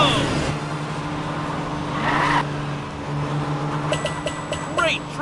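Cartoon car racing around a zigzag track in the PJ Masks Hero Academy game, engine hum steady with brief tire squeals, under game music and a voice speaking.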